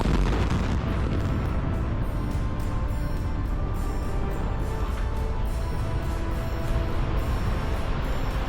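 Explosive demolition of industrial factory towers, with a loud, continuous roar of blasting and collapsing structures that rumbles steadily throughout, dense low rumble with scattered bursts, no voices.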